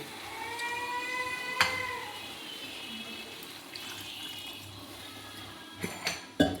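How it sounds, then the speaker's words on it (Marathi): A steady stream of water runs into a pan of roasted spice masala for eggplant curry, with a soft continuous rush and a few sharp clinks near the end. "पाणी ओतून घ्या छानपैकी"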